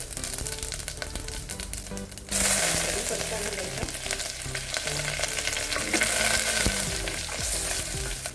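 Asafoetida, mustard seeds and cumin hitting hot oil for dal khichdi, a sharp sizzle that flares up suddenly and keeps crackling and popping close by, with light stirring and no talk.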